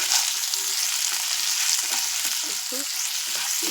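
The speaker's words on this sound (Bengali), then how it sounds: "এবারে খুব ভালো করে ফ্রাই করে নিই" Potato pieces frying in a pan with salt added, a steady close hiss of oil with occasional stirring scrapes and bubbling crackles, no voices.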